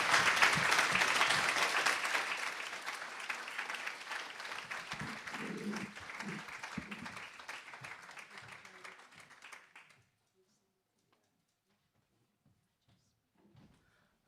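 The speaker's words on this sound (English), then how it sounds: "Please join me in giving them a well-deserved round of applause." Audience applause at a youth awards ceremony fills the hall loudly at first, then slowly thins and dies away to near silence by about ten seconds, with a brief faint stir near the end.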